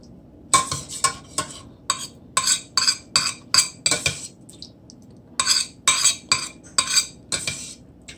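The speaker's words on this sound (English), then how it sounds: "Let's mix it around in the butter." A spoon stirs chopped onion in melted butter in a metal pot, giving a rhythmic run of sharp, close scraping clinks about twice a second, pausing briefly midway before resuming, with no speech.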